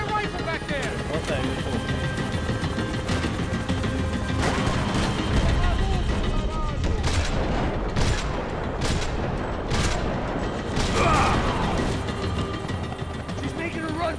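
Dense, continuous gunfire fills a Max Payne 3 game chase, with rapid bursts and heavy booms layered together, loud and unbroken throughout while voices shout over the battle.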